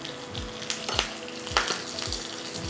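Dry red chillies and curry leaves sizzle in hot ghee for a dal tempering, a quiet crackling fry close up with a few soft stirring scrapes.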